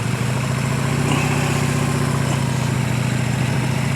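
A motorcycle running through a cone drill for new riders, a steady close engine drone with a low pulsing rumble, loud and continuous with no talk.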